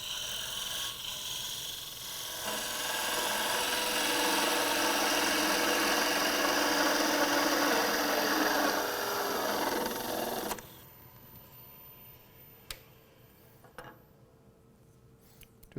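A loud, steady abrasive whir of sanding against wood spinning on a lathe, on the base of a turned gimbal clock, runs for about ten seconds, then stops abruptly, leaving quiet with a few faint clicks.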